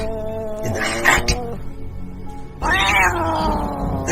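A cat meows twice in a theatrical magic-act setting, each call a loud, drawn-out, wavering cry, with a short quieter pause between them.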